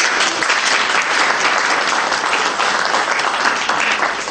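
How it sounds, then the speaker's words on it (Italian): Applause of encouragement from an audience at a bergamot-themed event in Bova Marina, steady dense clapping filling the whole stretch at close range without pause. "facciamo un applauso di incoraggiamento"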